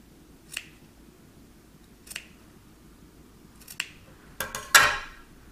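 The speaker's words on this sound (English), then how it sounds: "you still need to snip into it on the curves" Scissors snip into the curved seam allowance of a fabric dress pocket: a handful of crisp, quiet cuts spaced a second or two apart, ending with a quicker cluster of snips, heard alone against a faint background.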